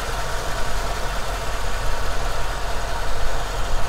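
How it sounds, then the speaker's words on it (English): A 1994 C4 Chevrolet Corvette engine idles steadily and close by, a rough, even rumble with a faint rhythmic knock and no talking. "The engine sounds great, super healthy idle"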